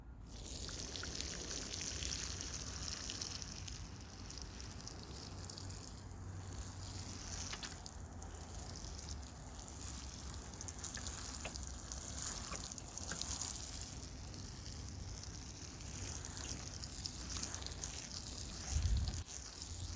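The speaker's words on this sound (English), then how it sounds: "So all we have left now is just to water the bed" Water poured over a freshly mulched raised garden bed, a steady soft trickle and splash running continuously and evenly at close range, with no talking.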